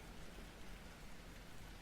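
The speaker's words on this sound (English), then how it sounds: "Let's get out of the rain" Steady rain falls without a break, soft and even, heard alone with no voices or other sounds.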